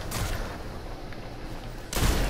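Gunfire bursts in the Destiny Iron Banner multiplayer mode, a loud shot at the start and another heavy burst near the end, with quieter combat noise between.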